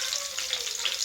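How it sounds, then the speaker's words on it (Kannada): Mustard seeds, chili and onion frying in a spoonful of hot oil for a lentil curry, giving a continuous close sizzle with small crackles and no talk. "ಇದಕ್ಕೆ ಈಗ ನಾನು ಸಾಸಿವೆ, ಮೆಣಸಿನ್ಕಾಯಿ, ಈರುಳ್ಳಿ ಹಾಕಿ ಫ್ರೈ ಮಾಡ್ಕೊಳ್ತೀನಿ."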